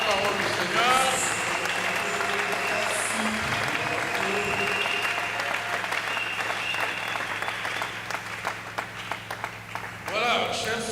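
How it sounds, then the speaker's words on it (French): A church congregation applauds the word of the Lord, with sustained loud clapping and crowd noise over a low held tone, voices rising through it and the clapping easing toward the end. "Puissions-nous applaudir encore une fois la parole du Seigneur"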